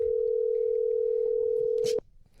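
A steady telephone dial tone on a radio call-in show holds for about two seconds, loud and continuous, then cuts off abruptly, leaving faint room noise behind it.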